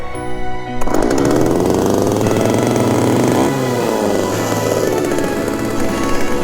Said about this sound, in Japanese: やっぱエンジン音はいいっすね。